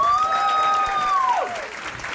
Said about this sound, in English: let's have another round of applause for Salman.